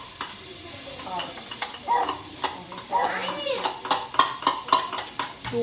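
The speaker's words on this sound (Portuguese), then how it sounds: "com alho e cebola refogados no azeite" Garlic and onion sizzle loudly in olive oil at the start of a shrimp dish, with crackling spatter and the repeated clatter of stirring in the pan. A voice is faintly audible underneath.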